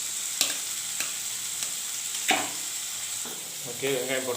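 Onions sauté in a pan for a jackfruit kurma, giving a steady bright sizzle throughout. A spoon scrapes and taps the pan several times, and a few louder clatters come near the end.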